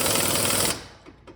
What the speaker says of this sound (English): that's all the tighter I can go with my 1/2 inch impact